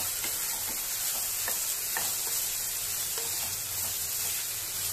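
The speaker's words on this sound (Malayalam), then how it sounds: "ഈ സമയത്ത് 1/5 അല്ലി വെളുത്തുള്ളിയും കൂടെ ചേർത്ത് ഇളക്കി കൊടുക്കാം." Garlic and ridge gourd sauté in a hot pan, giving a steady, close sizzle that runs throughout, with a few light scrapes and clicks from stirring.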